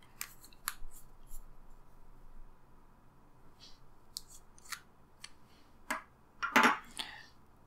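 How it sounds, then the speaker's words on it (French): An Esterbrook Estie fountain pen cap is pushed and screwed onto its body, giving a string of small, close, sharp clicks and scrapes, sparse at first and bunching together near the end. "Il faut pousser et visser pour réussir à visser le capuchon."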